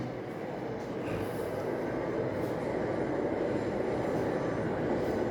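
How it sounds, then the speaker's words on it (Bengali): A metro train runs past outside a top-floor flat in Dum Dum, a steady, fairly loud rolling rumble and rail clatter that fills the whole stretch with no one talking. "এই দেখুন মেট্রো যাচ্ছে।"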